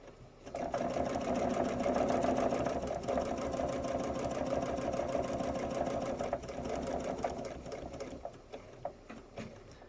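A sewing machine runs steadily, stitching quilt fabric for a table runner with a close, continuous whirring drone that eases off and stutters slightly near the end.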